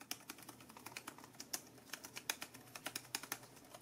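Quiet, steady typing on a wireless Bluetooth scissor-switch keyboard with soft, muted key clicks in an irregular rhythm, close up, with no voices.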